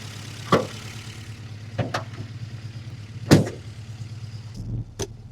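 A classic Mini fitted with a large carburettor rumbles at a low, even engine note on a test drive, with several sharp knocks and clunks standing out from the steady hum, close and moderately loud.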